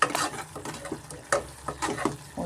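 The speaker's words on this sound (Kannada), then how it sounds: "ಸ್ವಲ್ಪ ಮಸಾಲೆನ ಚೆನ್ನಾಗಿ ಈ ಥರ ಫ್ರೈ ಮಾಡಿಕೊಂಡು" Spice masala frying in a pan for egg kurma, a soft sizzle broken by repeated scraping stirs of a spoon against the pan in an uneven rhythm, close and moderately loud.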